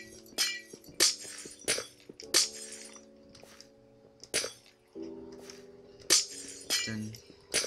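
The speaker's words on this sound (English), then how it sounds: "Oh, it's glass. Chiseled glass." Chiseled glass blocks breaking in a modded Minecraft game, a series of sharp crisp shattering clinks repeated about a dozen times, layered over soft sustained background music tones.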